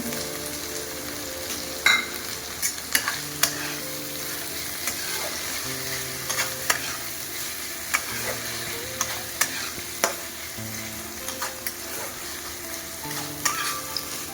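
Masala for a Bengali-style chicken curry with potatoes, tomato and spices, fries with a soft, steady sizzle while a spoon stirs and taps the pan in repeated clacks, close and fairly quiet.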